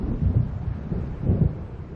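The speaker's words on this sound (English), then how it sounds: "It seems there's a storm coming." Thunderstorm rolling over a lake in the video game Alan Wake Remastered: deep, rumbling thunder swells twice under a steady hiss of rain, loud and continuous with no speech.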